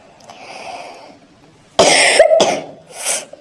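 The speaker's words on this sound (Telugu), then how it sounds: "దగ్గు రాకుండా కూడా కావాలని దగ్గుతుంది" A person coughs in a few sharp, close bursts after a quiet stretch with faint background noise.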